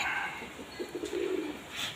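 Pigeons nesting on a rooftop give soft, low cooing calls in a short rising and falling phrase, faint against a quiet outdoor background.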